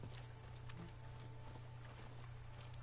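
Horse hooves from The Witcher 3: Blood and Wine, a steady clip-clop of walking steps with a constant low game hum beneath, fairly close and even throughout.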